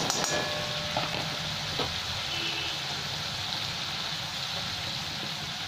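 Ginger paste and chili powder sizzle in a hot pan of oil for an eggplant korma, a steady broadband hiss with light scraping clicks, close and continuous without talk.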